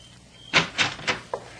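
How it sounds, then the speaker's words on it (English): A door opened in an old radio drama produces a quick series of four knocking and clunking sounds, moderately loud against quiet background hiss, with no talk. "Sailor, get decent and open the door"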